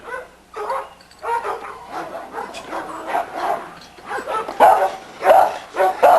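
A small female dog named Scarlet, with a black mask and an undershot jaw, gives a series of sharp, close barks and yips with brief whimpers between them in a kennel yard.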